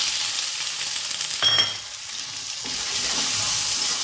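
Potatoes and peas fry with cumin in a pan for poha, giving a constant bright sizzle. A spoon stirs and scrapes them briefly partway through, and no one speaks.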